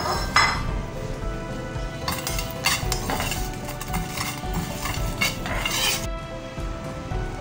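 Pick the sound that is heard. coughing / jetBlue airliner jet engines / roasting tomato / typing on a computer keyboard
roasting tomato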